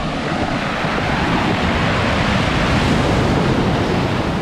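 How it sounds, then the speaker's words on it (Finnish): Ocean waves break on a beach in Albania, making a loud, continuous roar of surf mixed with heavy wind buffeting the microphone and no clear gaps between the waves. "Tässä mä metsästän isoimman aallon ja mä hyökkään sen kimppuun"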